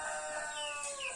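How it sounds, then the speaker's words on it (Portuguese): Several roosters crowing in overlapping calls from the stall area of a farm, loud and close with no talk. "Você vai ouvir alguns galos cantando aqui"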